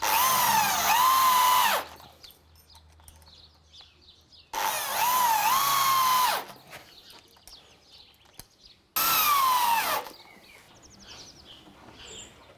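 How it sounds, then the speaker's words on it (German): A power drill drives screws into wood while a wooden boat is built, three loud whirring bursts of about two seconds each, with a rising then falling motor pitch, separated by quiet pauses with faint background noises. "Auch hier wird wieder geschraubt."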